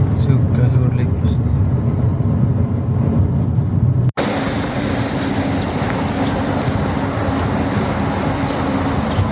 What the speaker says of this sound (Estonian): Päris suur liiklus on, ma ei saa aru miks.